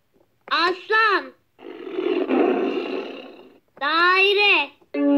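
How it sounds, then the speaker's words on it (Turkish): A Fisher-Price puppy activity table toy plays a recorded lion roar, a loud, close, raspy growl lasting about two seconds, set between short bursts of the toy's cheerful synthetic voice and jingles. "aslan"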